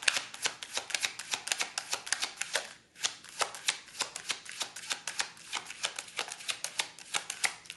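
Tarot cards are shuffled by hand in quick repeated riffles, a crisp papery flutter with a brief pause midway, close and fairly quiet with no talking.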